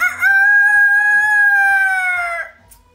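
A man imitates a rooster's crow with his voice: one loud, sustained, slightly wavering call lasting about two seconds, then fading out, with no other sound around it.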